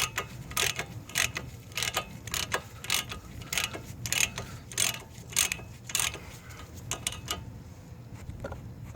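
A wrench works a self-locking Teflon nut off a 2008 car's tie rod or control arm, giving a steady run of sharp ratcheting clicks in even bursts, close and distinct over a low background hum.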